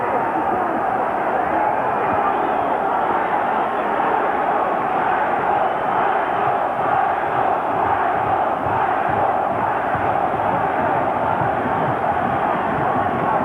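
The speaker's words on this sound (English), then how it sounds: "There's the home crowd." A large boxing arena home crowd roars continuously during the 1990 Michael Carbajal vs Muangchai Kittikasem fight, a dense wash of cheering and shouting that holds steady at high volume throughout.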